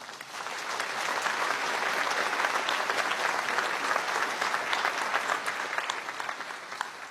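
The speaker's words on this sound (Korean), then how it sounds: "여러분, 재원 의원 유족회에 큰 박수 부탁드립니다." Steady, dense applause from a large audience at a 77th Constitution Day celebration ceremony, honoring the bereaved families of Constituent Assembly members; the clapping fills the room evenly for about seven seconds without any talk.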